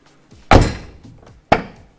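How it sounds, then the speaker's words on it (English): A Mazda MX-5 Miata door closes twice with loud, close thunks about a second apart, each a sharp slam that decays quickly, with light handling noise before the first. "make sure it actually opens and closes the door"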